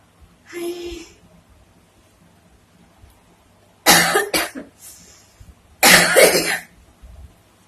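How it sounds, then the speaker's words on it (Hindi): A few dry coughs from someone with a cold-weather cough, three separate bursts with pauses between, close and fairly loud, no talking. "अभी ठंडी है ना, इस करके खांसी भी आ रही है।"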